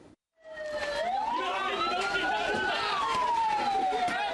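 Fire engine sirens wail continuously, a rising and falling tone sweeping loud and close over street noise and chatter, as trucks respond to a fire spreading through dense housing on Jalan Pertanian Selatan, Duren Sawit, Jakarta.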